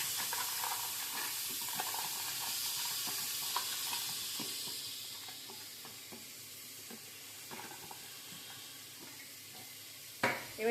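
Washed chickpeas tipped into spice paste and stir-fried in a pan, a bright hissing sizzle at first that settles into quieter frying with light spatula taps and a knock at the very end.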